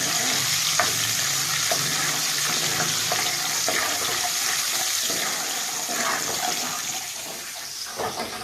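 Cashews and asafoetida crackle in a hot oil tempering for Andhra-style bisi bele bath, a loud close sizzle with scattered clinks and stirring scrapes throughout.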